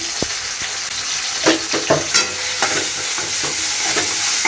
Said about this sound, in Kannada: ಇವಾಗ ಪೇಸ್ಟ್ನ ಸೇರಿಸ್ಕೊಂಡು ಹಸಿ ಸ್ಮೆಲ್ ಹೋಗೋಗಂಟ ಚೆನ್ನಾಗಿ ಫ್ರೈ ಮಾಡ್ಕೊಂಡಿದ್ದೀನಿ